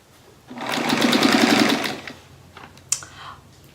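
A sewing machine stitches a quilt in one close burst of rapid, even needle clatter lasting about a second and a half, then winds down, followed by a sharp click.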